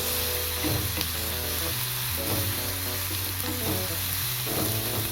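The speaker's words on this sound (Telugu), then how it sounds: "ఇందులోకి ఒక రెండు ఇంచులు చింతపండుని కూడా వేసుకొని మరొక పది నిమిషాల పాటు బాగా ఫ్రై చేసుకోవాలి" Onion, tomato, green chillies and tamarind frying in oil in a pan, a loud continuous sizzle with occasional stirring scrapes, accompanied by a low steady tonal hum in the background.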